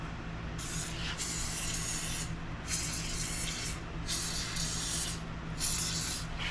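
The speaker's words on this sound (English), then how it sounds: "I'll spray a little lube down there too." An aerosol can of lubricant sprayed into engine parts during an LS 6.0 LQ4 V8 rebuild for a 1986 Chevrolet Suburban C20, heard as several loud close hissing bursts of about a second each, separated by short pauses.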